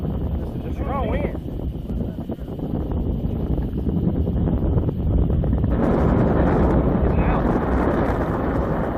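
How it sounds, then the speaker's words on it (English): Strong gusting wind roars across a mountain expedition party, a heavy, constant buffeting that swells louder partway through and drowns out faint voices underneath. "This is a strong wind."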